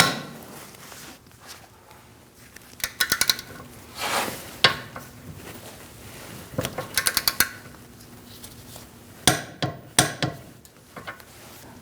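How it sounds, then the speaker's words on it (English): A torque wrench snugs and tightens a rear shock mount bolt on a 2016–2019 Chevrolet Cruze, giving quick runs of sharp ratcheting clicks in several separate bursts amid soft metallic handling noises, fairly close. "We're going to torque this to 74 foot-pounds."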